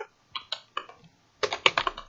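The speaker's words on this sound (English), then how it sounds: "so I'm just again typing" Keystrokes on a computer keyboard while a simple calculator app is built: a few separate taps spaced out, a short pause, then a quicker close burst of clicks, with no talking.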